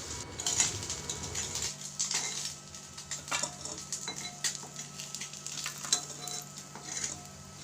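Small mourola fish frying in oil in a pan, a soft steady sizzle with occasional clinks and scrapes of a utensil against the metal, no speech.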